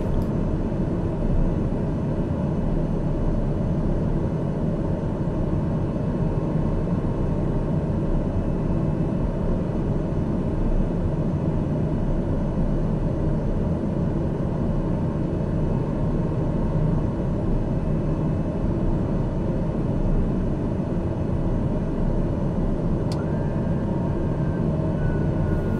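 TBM airplane engine drones steadily in flight on a wide landing circuit, heard as a continuous, even cabin hum with no break.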